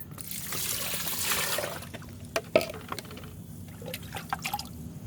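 Water trickles and splashes steadily for a few seconds as it is poured into strained fermented oat water to dilute it, a soft pouring sound with a few sharper drips and clinks near the end.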